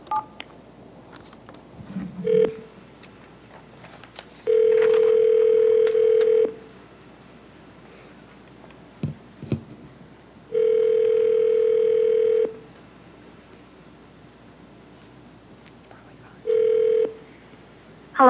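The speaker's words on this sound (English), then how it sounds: "dial 9 and then 1" Telephone tones at a committee teleconference: short keypad beeps with several long steady dial-tone-like tones repeating at intervals, loud against a quiet room with faint background noise.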